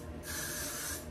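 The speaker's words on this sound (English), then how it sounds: "watch your faces while I spray" A close, steady hiss of spray onto hair during makeup preparation for a fantasy ball fairy event, one continuous burst lasting about a second over faint room noise.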